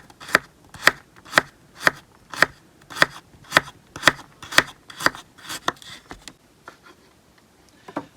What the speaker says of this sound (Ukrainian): нарізали моркву і нарізаємо картоплю